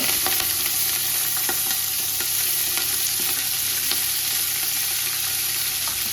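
Fenugreek leaves, green chillies and mint frying over a medium flame for mutton dum biryani, giving a steady, loud sizzle with scattered crackles and stirring scrapes throughout, no voices.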